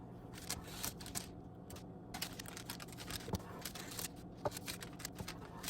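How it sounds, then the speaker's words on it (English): A knife slicing through a sheet of homemade shrimp pasta, making a quick series of soft, crisp chopping taps against a board, close and fairly quiet, with no talking. "I think I'm just gonna cut some noodles"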